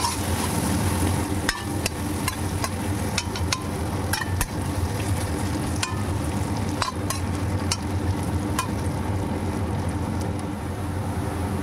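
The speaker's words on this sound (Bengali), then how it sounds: "এবার এই গরম তেলে আলুর টুকরোগুলো দিয়ে সামান্য লবণ ও হলুদ সহযোগে ভালোভাবে নেড়ে চেড়ে লাল লাল করে" Potato pieces fry in hot oil with salt and turmeric, a dense continuous sizzle close by, broken by sharp clicks and scrapes of a spatula stirring in the pan.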